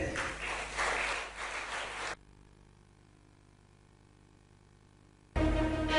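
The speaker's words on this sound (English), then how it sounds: "a round of applause for our next best brand? Let's hear it for BlackBerry." An awards ceremony audience applauds for BlackBerry, a dense burst of clapping that cuts off abruptly, followed by near silence, then loud clapping resuming at the end.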